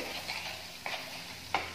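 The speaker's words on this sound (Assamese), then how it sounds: "দি অলপ সময় এনেকৈ ভাজি ল'ম" Garlic, ginger and onion paste frying with chillies in a pan, a low steady sizzle broken by a few short stirring scrapes, close and fairly quiet with no talking.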